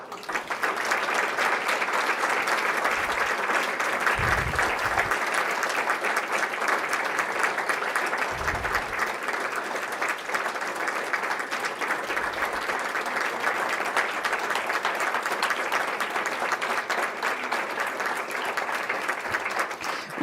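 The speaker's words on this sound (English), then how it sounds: "please rise so that we can give you guys a great round of applause before we start" An audience at a scholarship gala gives medical students a sustained round of applause, dense, steady clapping holding at full strength from start to finish with a few low thumps underneath.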